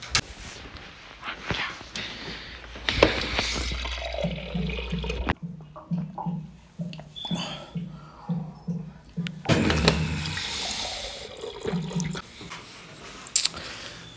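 Water runs from a household tap into a glass, splashing and gurgling in uneven spurts that stop and restart with short pauses over several seconds.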